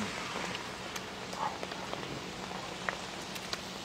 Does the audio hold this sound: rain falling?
yes